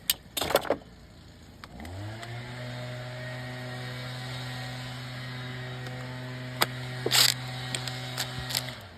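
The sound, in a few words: impact wrench running in 12 mm bolts on upper cover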